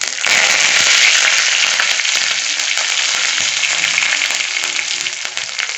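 Curry leaves and a dried red chili sizzle hard in hot oil with mustard and cumin seeds, a loud, steady, crackling fry that holds close and continuous from start to end.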